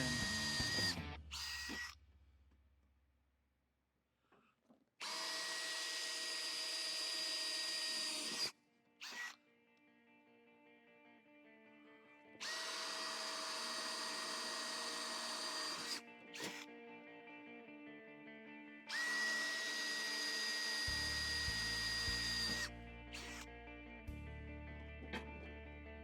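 Power drill boring into the metal of a Ford F100 race truck's F150 body swap: several loud, sustained bursts of high whine, each several seconds long, separated by silent pauses, with brief clicks and handling noise between them.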